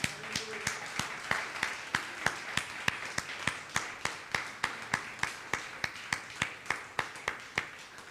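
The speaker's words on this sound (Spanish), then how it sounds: "Démosle un fuerte aplauso al Rey de Gloria." A church congregation claps in a steady, rhythmic unison beat, about three sharp claps a second, fairly faint and echoing, with no voices.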